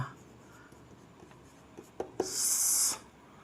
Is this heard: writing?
yes